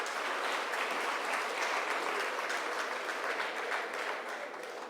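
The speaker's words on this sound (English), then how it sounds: "A warm round of applause to Mr." An audience applauds at a medal presentation during a closing ceremony, a dense steady clapping for the whole stretch that eases slightly at the end.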